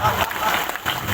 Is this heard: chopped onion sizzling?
no